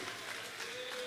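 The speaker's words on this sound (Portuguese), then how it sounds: "Você pode aplaudir a Jesus por causa disso." Applause from a church congregation during a Portuguese-language sermon, a steady, fairly faint wash of many hands clapping at once that holds evenly for about a second.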